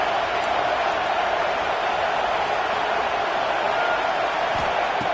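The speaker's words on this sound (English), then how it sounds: "This crowd is trying to inspire this defense to make a big red zone stop." Football stadium crowd at a college game roaring steadily in a loud, sustained wall of noise as the home fans try to push their defense to a red zone stop.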